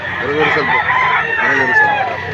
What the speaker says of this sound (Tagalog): ito pong dalang manok ni sir